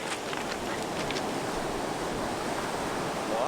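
Steady, dense surf from ocean waves breaking along a shore on Hawaii's Big Island, a continuous roaring wash with no voices.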